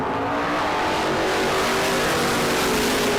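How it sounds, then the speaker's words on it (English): Drag racing cars, a Camaro among them, roar loudly at a spring drag racing event, a dense sustained engine blast with rising revs and no gaps throughout. "Garrison in the Camaro has a huge starting line advantage and a win light"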